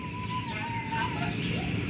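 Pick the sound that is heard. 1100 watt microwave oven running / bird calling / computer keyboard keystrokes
bird calling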